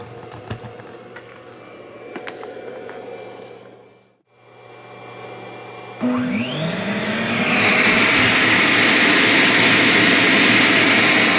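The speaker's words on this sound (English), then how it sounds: "I got a shop vac. I'll probably plug it in. See if it'll work." A shop vac plugged into an AC inverter outlet installed in a 2014 Ram 3500 truck, heard first as faint ticking and clicks, then a brief silence before the motor roars on near and loud and keeps whining steadily to the end.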